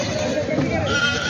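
Goats and sheep bleating at a large livestock market in Maharashtra, a brief bleat amid crowd noise, with someone talking over it.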